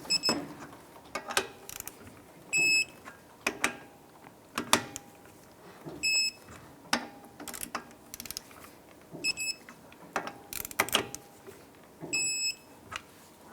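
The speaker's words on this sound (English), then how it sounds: "Go ahead and torque the lug nuts down to 98 foot-pounds." A torque wrench tightens lug nuts on a 2001-2007 Ford Escape with repeated ratcheting clicks and taps, punctuated at regular intervals by short electronic beeps as each nut reaches torque, fairly quiet and close.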